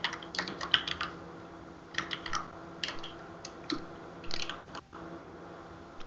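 Fingers typing notes on a computer keyboard, a run of quiet, irregular key clicks and clacks in short bursts with brief pauses between.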